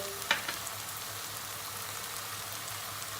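Spaghetti sauce seasoned with red pepper powder, chili flakes, black pepper and salt is stirred in a hot pan, giving a steady close sizzle with a brief clink of the spoon near the start.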